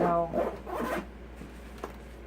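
A zipper on a soft RC transmitter carrying case is pulled in a few quick, rasping strokes close by, then trails off into a quiet pause with one small click.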